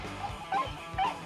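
Dog yips, whimpers and short barks in two or three brief bursts, close and fairly quiet, during a playful scuffle with a cat over a glass.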